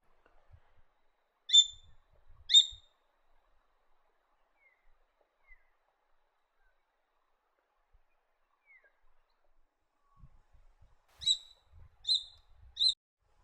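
A spotted harrier in open woodland or grassland gives short, thin calls in two separate clusters, a pair early and a quick series later, against an otherwise near-silent background.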